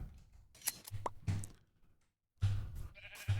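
Sheep in the Minecraft game give short, sporadic bleats near the listener, separated by soft clicks and quiet gaps.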